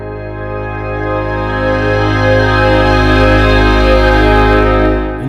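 Sampled orchestral winds from the UVI Augmented Orchestra library hold a widely spaced chord with octaves in the bass, swelling steadily in a crescendo over about five seconds before easing off, with no voices.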